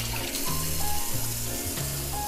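A kitchen water tap runs steadily over shrimp being rinsed in a sink, a close continuous splashing flow with shifting gurgles as the hands move the shrimp under the stream.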